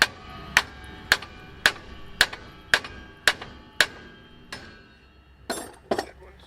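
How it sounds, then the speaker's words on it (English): Hammer blows on a car suspension part during a disc brake conversion on a 455 Cutlass, seven sharp metallic clanks at an even pace, then a pause and two softer, rougher knocks. "Give her a couple of good whacks here."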